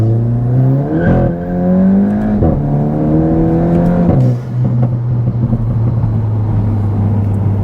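Volkswagen MK8 GTI with a Stage 1 tune pulling at full throttle: loud, close engine note climbing through several gear changes with brief dips between pulls, then settling into a steady drone, with no talking.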